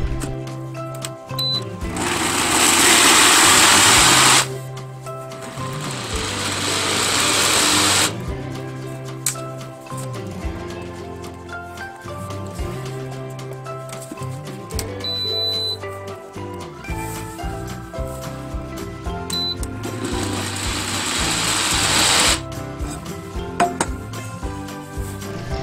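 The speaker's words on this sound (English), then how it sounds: "you can add as much liquid into the blender to grind these beans up as you would like to" Small kitchen blender grinding soaked soybeans with water for soy milk runs in loud bursts of whirring roar, stopping and restarting twice, with quieter clattering and handling sounds between runs.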